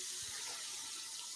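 A kitchen tap runs at full flow, giving a steady, close, broadband hiss of water with no pauses or voices.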